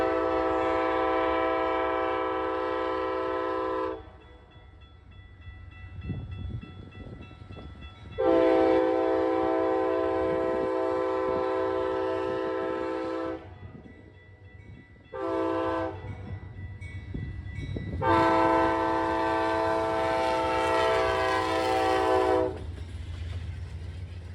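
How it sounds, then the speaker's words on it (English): A southbound Hiawatha passenger train led by a P42 locomotive sounds its horn in long, loud blasts, with pauses between them, over a steady rumble of the passing cars. "My favorite catch of the day was the southbound Hiawatha 332."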